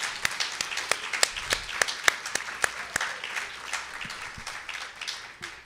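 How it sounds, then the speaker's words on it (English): An indoor audience applauds the morning presenters at a live-streamed event, a sustained round of scattered claps at moderate distance that fades gradually toward the end. "Let's give another round of applause for the morning presenters."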